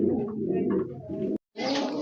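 Pigeons at a farm selling fancy breeds such as Jacobins and Lahoris coo in steady, low rolling calls, close and alone, broken by a brief silent gap before resuming.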